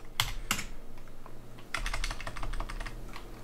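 Typing of a command on a computer keyboard while setting up a Raspberry Pi as a webserver: a couple of separate clicks, then a dense run of quick key taps, close and fairly quiet, with no talk.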